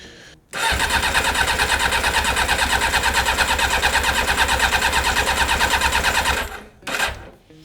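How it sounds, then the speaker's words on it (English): Yamaha XJ 600 motorcycle engine cranking over on the starter with the throttle held wide open for a compression test, a steady rapid chugging that runs for about six seconds, stops, then gives one short burst. "So we can now test the compression on the first cylinder."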